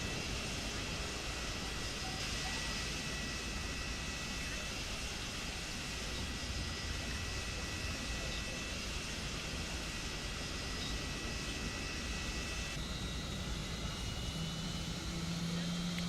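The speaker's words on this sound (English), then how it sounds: "Pratt & Whitney engines firing up." Pratt & Whitney engines on an ANA Boeing 777-200ER spooling up at Tokyo-Haneda in a flight simulator game, a loud, constant broadband roar with a steady high whine holding throughout.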